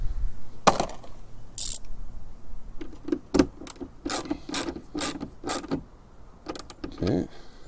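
Hand ratchet with a 7/16 socket snugging down an RV roof vent cover, a run of quick close clicking ratchet strokes in bursts, with brief handling noises between them.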